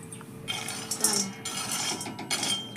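Peanuts roast in a pan as they are stirred, giving close, busy rattling and metallic clinking that comes in uneven bursts over a low background hum.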